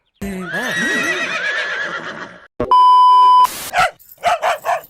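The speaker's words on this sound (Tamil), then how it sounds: "என்னைக்கு இல்லாமல் நம்ம நாய் இன்னைக்கு இப்படி குலைக்குது" A dog barks in a quick series of four or five loud, close barks, following a long horse whinny and a steady electronic tone.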